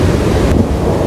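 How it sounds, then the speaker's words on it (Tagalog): Strong wind roars in a continuous, loud rush straight into the microphone at Patapat on a motorcycle trip, with no pause. "Saka napakalakas ng hangin ngayon."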